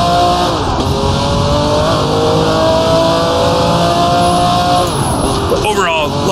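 Open-wheel race car in Assetto Corsa at Fuji Speedway, its engine whining loud and steady through the gears with shifts and a brief rev drop, under continuous talk.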